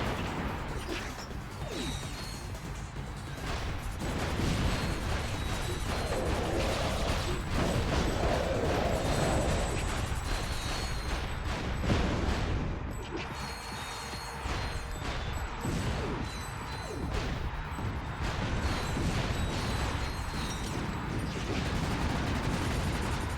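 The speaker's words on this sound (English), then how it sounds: "I think explosions are pretty!" Continuous chaotic combat noise from the video game Ratchet: Gladiator: repeated gunfire bursts and booming explosions layered into a dense, rumbling din that stays busy throughout.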